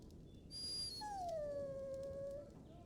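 A dog whimpers in the fantasy role-playing game Dragon Age Origins, giving a single drawn-out, high, tonal whine with a brief higher yelp before it, heard alone over a faint background hum.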